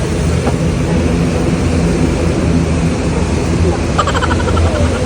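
Airliner landing at Cebu on a flight from Ozamiz, heard as a loud, steady broadband roar with low rumbling throughout and a brief rattle near the end.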